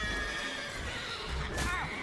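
Roach the horse neighs in Witcher 3, a loud, close whinny rising and falling near the end, preceded by soft hoofbeats and faint game ambience.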